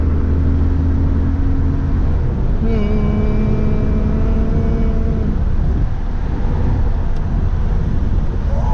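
Car, likely a Rough Country-modified vehicle, driving hard on a highway with the windows rolled up, a steady loud engine and road roar whose pitch rises and then drops partway through.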